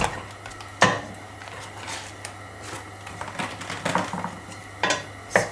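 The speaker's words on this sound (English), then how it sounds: "I'm going to put the keema into the pan." Ground keema meat dropped into a hot, dry pan on the stove, with clanks and scrapes of a utensil against the metal and a faint sizzle, intermittent and close, no speech.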